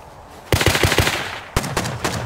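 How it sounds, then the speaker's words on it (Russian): Automatic gunfire in the survival video game Rust, two loud close bursts of rapid shots, the first longer and the second shorter after a brief pause. "Ага, шмаляет."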